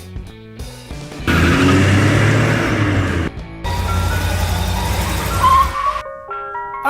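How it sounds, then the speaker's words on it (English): A roadster car's engine roars loudly in two long sustained bursts separated by a short break, with brief melodic jingle tones at the start and end. "Roadster."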